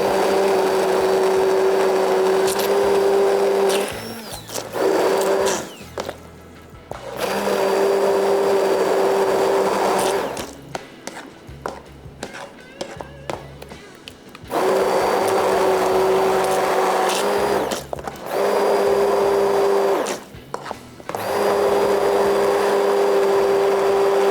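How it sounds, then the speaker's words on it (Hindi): An electric grinder whirs loudly as it blends a masala paste smooth, in bursts of steady motor hum separated by short pauses and a few seconds of rattling, uneven grinding. "और पीसने के लिए मशीन की ऑन"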